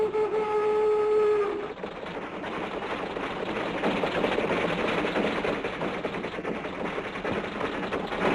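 A speeding cartoon train rumbles and clatters steadily after a brief opening whistle-like tone, with a busy rhythmic mechanical rattle holding at a constant level and no talk.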